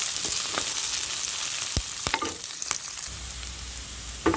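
Pechay stems frying with onion and garlic in a hot pan, a steady broadband sizzle with a few sharp crackles and pops of stirring throughout, no talking.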